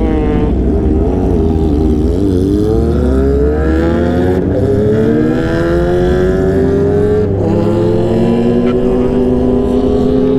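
A Kawasaki ZX25R sport motorcycle engine revs hard and close, its pitch climbing in long sweeps, dipping and rising again across the whole stretch, loud and continuous.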